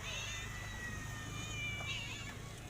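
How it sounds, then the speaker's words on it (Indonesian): Several cats meow repeatedly while waiting to be fed, their high calls overlapping against a low background hum. "kita kasih makan dulu si meong-meongnya."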